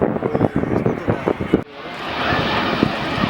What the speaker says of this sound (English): That is a majestic flyby